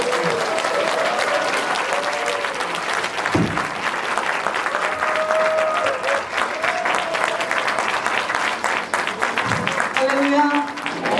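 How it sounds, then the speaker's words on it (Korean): Warm applause from a church congregation welcoming a speaker at a revival meeting, a sustained wash of clapping with scattered voices and cheers mixed in and a brief voice near the end. "간사님 나오실 때 뜨거운 박수로 환영하겠습니다"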